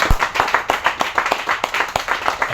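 A church congregation claps in applause, many hands beating in a dense, fairly steady rhythm that fills the space at close range, with no talk over it.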